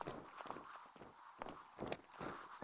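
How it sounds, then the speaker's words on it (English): Footsteps in a video game move at an irregular walking pace, a series of soft, fairly faint scuffing steps with no talk over them. "Andrew, you hear footsteps?"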